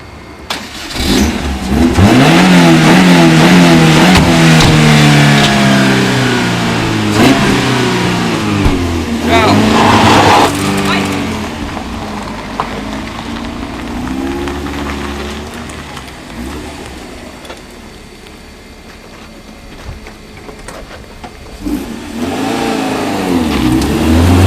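A wedding car pulls away with its engine starting and revving up close, then settling, while people chat and call out over it throughout.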